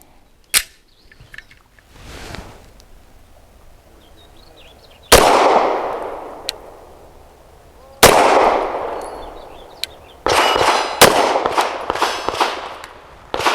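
Pistol shots from a BUL Armory SAS II TAC 4.25 loaded with Federal Syntec 138-grain synthetic jacketed hollow points, several sharp, loud reports with ringing decay, spaced apart and then a quicker cluster near the end.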